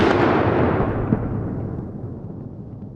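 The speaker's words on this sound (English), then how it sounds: "This Russian vehicle hits one of the mines." A Russian BMP-2 infantry fighting vehicle detonates an anti-tank mine: one loud, broad blast that rolls and rumbles, then slowly fades over a few seconds, heard alone without voices.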